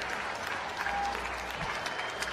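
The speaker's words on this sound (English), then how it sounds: "Give her a round of applause." Audience applause at a Barrett-Jackson car auction greets the first female CEO of General Motors coming on stage. The clapping is steady and moderately distant, filling a large hall at a fairly low level, with no clear voices over it.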